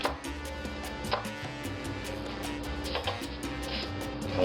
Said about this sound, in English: I'm going to push down on this and I want to make thin, long, narrow slices